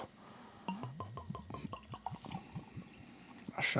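Bourbon, Old Forester 1924 10-year-old, is poured into glasses with a quick run of gurgling, glugging splashes from the bottle, then softer trickles and a faint clink at the end, close and fairly quiet.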